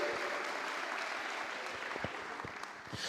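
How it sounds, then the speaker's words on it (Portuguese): Church congregation applauding during a worship service, a steady wash of many hands clapping at moderate distance, with a few sharper individual claps standing out near the end. "aplaude a Jesus"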